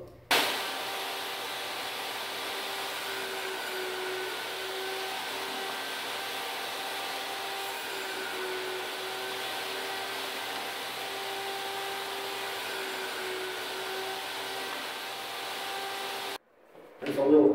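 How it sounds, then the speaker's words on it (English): A table saw cuts trim pieces for a finished basement, giving off a steady, even motor whine that holds at one level for about sixteen seconds and then cuts off abruptly. "I just use my table saw to keep them all the same size."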